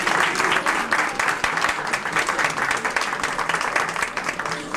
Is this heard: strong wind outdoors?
no